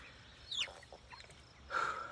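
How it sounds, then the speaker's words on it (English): Young farm-mix laying hen chicks make faint, brief clucks and chirps, with a slightly louder call near the end over low background noise. "Now let's show you the laying hens that we hatched out."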